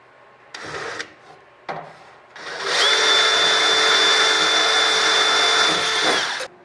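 A power drill whirs in two short bursts, then runs in one long, steady, high-pitched grind through metal for several seconds before stopping, close by, while building aircraft fuel tanks.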